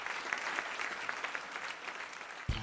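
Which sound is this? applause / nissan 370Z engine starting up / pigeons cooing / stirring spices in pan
applause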